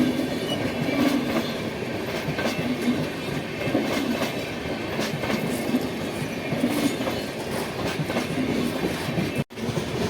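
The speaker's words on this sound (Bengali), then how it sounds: "এই যে ট্রেনটি যাচ্ছে এটা সোজা বর্ধমানের দিকে চলে যাচ্ছে।" A Howrah Bihar Express train rolls past along the rail line, a steady close rumble with rhythmic wheel clatter and metallic rail noise throughout, with no voices.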